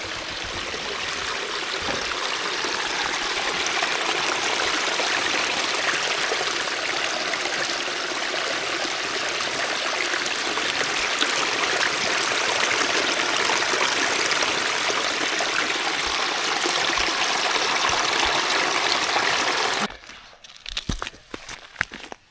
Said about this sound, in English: take you for your own trip into a baby waterfall